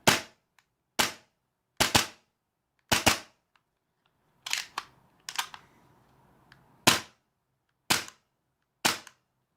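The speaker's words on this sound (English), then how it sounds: "So I'm going to do a few shots here." Tokyo Marui H&K USP Compact gas airsoft pistol firing about ten sharp, snappy shots, spaced roughly a second apart with a short pause and faint handling noise midway, close and loud with no talk.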